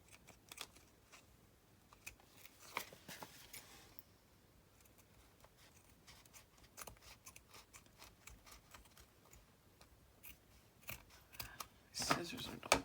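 Scissors trim a sticky piece of paper for a junk journal collage, giving a few crisp close snips that build to a sharper burst of cutting near the end over faint room noise.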